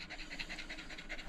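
A badly matted dog pants in quick, even, rhythmic breaths, close and fairly quiet, with no talk.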